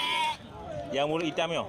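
Sheep bleat loudly and nearby at the Grogok livestock market, with a few wavering calls overlapped by someone talking.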